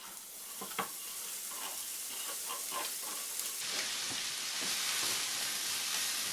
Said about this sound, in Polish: Masło się rozgrzało, więc wrzucam pory.